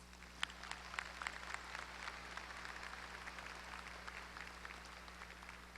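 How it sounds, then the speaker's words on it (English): Applause for the deans at the Texas A&M-Corpus Christi 2019 spring commencement, a large crowd clapping steadily with crisp individual claps, heard at a moderate distance in a big hall. "Let's give them a round of applause"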